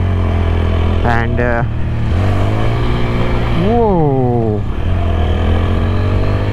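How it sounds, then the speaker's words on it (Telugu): A 2025 TVS Apache RTR 160 4V motorcycle engine idles with a low steady thump close by, while someone talks over it, his voice rising and falling above the running engine. "ఇంజన్ సౌండింగ్ చూసుకోవచ్చు,"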